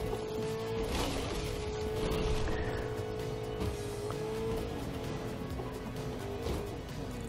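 A truck's engine hums steadily in a video game, a continuous droning tone with slight pitch shifts as it drives, loud and close throughout.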